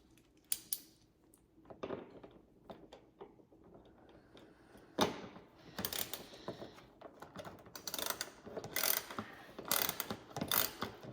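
Ratchet wrench tightening a bolt on a 2023 Can-Am OEM fender flare, giving bursts of quick clicking strokes with pauses between, close by and fairly quiet, no talking.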